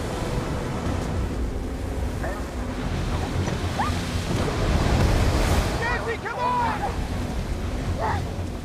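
Stormy sea waves surge and wash with strong wind gusts buffeting the microphone, while voices cry out faintly over the roar.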